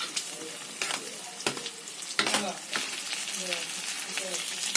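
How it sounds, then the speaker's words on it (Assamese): Potatoes and chopped green chillies sizzling in oil for an Assamese-style pork curry, a continuous loud fry broken by several sharp stirring clatters. "কাটি থোৱা জলকীয়াখিনি দি দিছোঁ। এতিয়া অলপ টাইম ভাজিব লাগিব।"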